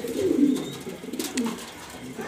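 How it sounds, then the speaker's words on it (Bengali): Colorful grizzle pigeons coo in a loft in Mirpur, Dhaka: low, throaty rolling coos close by, a couple of soft calls over a quiet background with faint talk. "সেরকম কালারফুল কবুতর আপনারা দেখতেই পারতেছেন বন্ধুরা"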